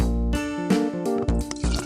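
Water pouring into a pot in a PBS Kids cooking game, a brine-making step: short, bright, synthetic splashing and filling tones in several quick bursts, loud and close.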